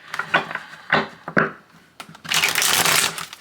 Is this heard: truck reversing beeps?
no